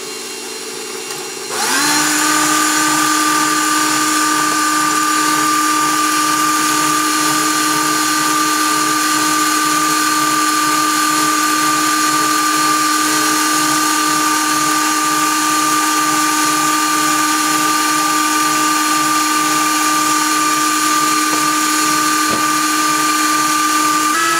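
An electric mixer runs at medium speed beating thick carrot-spice cake batter as oil goes in, starting abruptly and then holding a steady, loud, close whine with no pauses.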